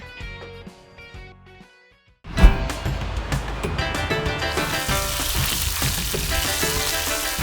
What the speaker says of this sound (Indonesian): Ayo Kak Mae, aku bantu menggoreng tahunya ya.